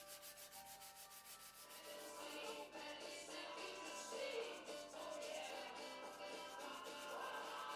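Sandpaper rubs back and forth across a wooden puzzle box, a soft, steady rasping hiss with a quick rhythmic stroke, close but quiet.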